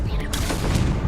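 A Confringo blast spell is cast in a Harry Potter video game, giving a short, booming explosive burst with a crackling tail that is loud, close and alone, with no voice over it.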